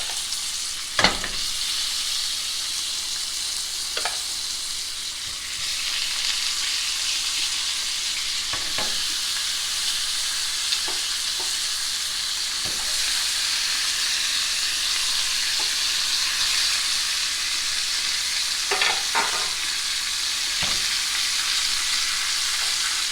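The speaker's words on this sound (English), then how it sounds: "So once we have our oil kind of hot, we're going to start adding our oxtails in." Oxtails frying in hot oil in a pot, with a steady bright sizzle throughout and scattered sharp pops and clatters from the pieces being added and moved.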